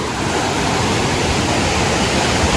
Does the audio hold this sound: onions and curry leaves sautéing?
no